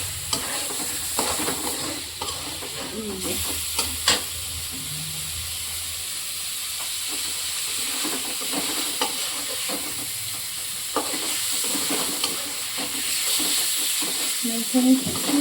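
Fried cauliflower florets being stirred and mixed in a pan, with a steady frying sizzle and hiss throughout and repeated scraping, clattering stirs, no talking.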